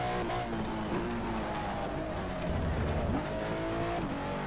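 A racing car roars steadily in the Race 07 video game, its engine droning close and continuous with pitch shifts and hints of tire squeal as the car turns in at speed.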